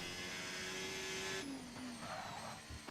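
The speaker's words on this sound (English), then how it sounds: "Just listen to the Ferrari engine of the Haas." A Ferrari-powered Haas Formula 1 car in a racing video game, its engine note a steady high whine that drops in pitch mid-clip as the car brakes through a sequence of turns, loud and alone.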